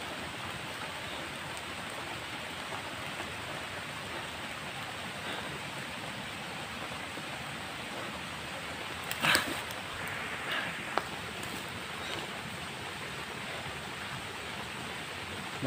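Heavy rain pours down in a steady, dense broadband hiss with no letup, a few brief louder splashes or knocks near the middle.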